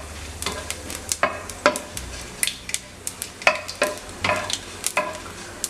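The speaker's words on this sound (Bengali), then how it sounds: "এবার আমি এই সমস্ত মশলা আমি হালকা করে একটু ফ্রাই করে নেব।" Dried chili, a bay leaf and whole cumin seeds fry in hot oil while a spoon scrapes and stirs the pan, irregular sharp clicks and scrapes over a low sizzle, close and fairly loud, no talking.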